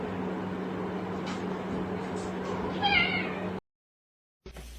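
A cat meows loudly several times close by over a steady low household hum, the cries bunching near the end before the sound cuts to silence and then briefly returns.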